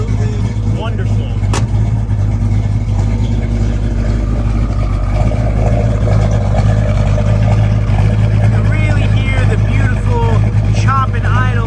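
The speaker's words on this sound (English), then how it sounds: "Chop and idle of this car." A restored 1967 Mustang S-Code with a 427 big block V8 idles with a deep, loud, choppy rumble that holds steady throughout, while people talk over it.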